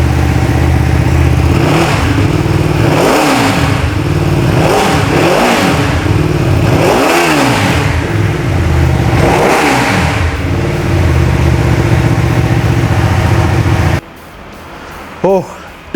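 A 2023 Ducati Streetfighter V2 twin-cylinder engine revs repeatedly from a gruff idle, with several loud throttle blips rising and falling up close before cutting off abruptly.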